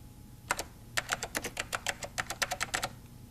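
Quick keystrokes on a computer keyboard, about twenty crisp clicks in uneven bursts, close and clear over a faint low hum.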